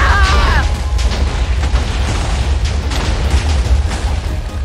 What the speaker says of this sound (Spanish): ¡Ha explotado todo, tú!